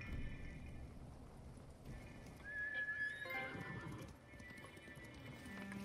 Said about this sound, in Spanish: ¿Dónde está mi caballo, tío?